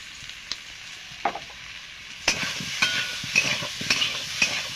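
Fried potatoes sautéed in a pan with salt and turmeric, soft sizzling under repeated scraping and stirring strokes that grow more frequent in the second half, close and moderately loud.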